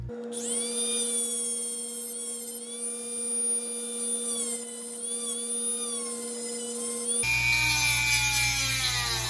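A dental handpiece fitted with a stone burr trims solder on a lower lingual holding arch at low speed, a high, steady whine with shifting tones that grinds louder and rougher near the end.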